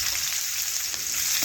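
Chopped onion hits hot oil already seasoned with bay leaf, cumin and five-spice, giving a bright continuous sizzle that stays steady and close throughout.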